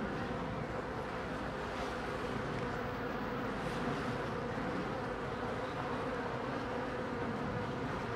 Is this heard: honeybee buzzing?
yes